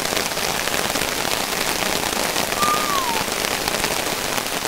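Steady rain patters densely on a camping tarp over a hammock campsite, an even, close hiss of drops with no break, and a faint brief bird-like chirp partway through.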